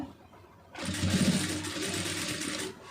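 A tailoring sewing machine starts up and runs a steady fine stitch along a lined blouse, a loud close whirring hum that continues for a couple of seconds before stopping, with no talking.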